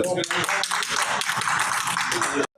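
Members at a city council meeting in Adana break into applause, a steady, dense clapping that lasts about two and a half seconds and then cuts off abruptly.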